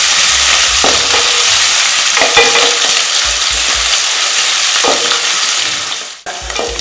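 Finely chopped garlic, ginger and green chili sauté loudly in butter for prawn Manchurian, with a continuous bright sizzle and repeated spatula stirring and scraping close by.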